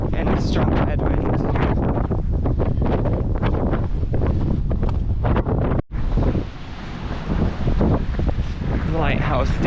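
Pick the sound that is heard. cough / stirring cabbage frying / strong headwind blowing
strong headwind blowing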